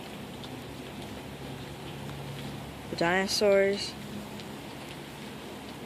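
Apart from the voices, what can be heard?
rain falling, sound effect in a story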